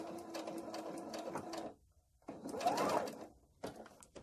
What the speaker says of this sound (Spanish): Ahora cosemos la otra esquina de la misma manera, haciendo retroceso.